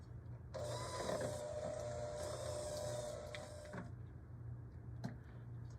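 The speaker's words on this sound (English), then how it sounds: "we're going to go ahead and use the mixer, and we're just gonna beat this until it's fluffy" An electric mixer beats cheesecake filling until fluffy, a steady close whirring drone that runs for about three seconds and then cuts off, leaving faint kitchen clatter and a single knock.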